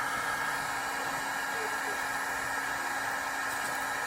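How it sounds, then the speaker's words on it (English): A heat gun blows hot air steadily to soften and shape PVC for an axe sheath, a loud, constant broadband whoosh with a faint hum running through the whole stretch. "I'm using the heat to shape it. What heat? This heat gun here."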